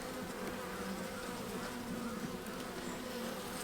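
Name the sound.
honey bees buzzing in hive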